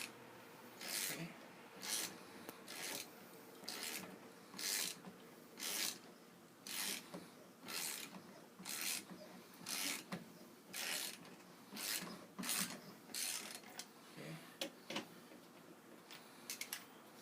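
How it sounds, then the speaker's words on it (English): A torque wrench tightens lug nuts on a car wheel during a tire change, giving a steady series of sharp mechanical clicks and ratchet ticks at close range, repeating roughly every half second with brief pauses. "And then I'm going to grab my torque wrench and tighten them."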